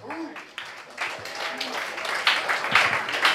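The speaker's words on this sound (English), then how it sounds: "Applaud, lots of people." A comedy-night crowd at Cafe Diem in Richmond, Virginia claps and cheers, starting sparse and swelling into fuller applause with scattered whoops and voices mixed in.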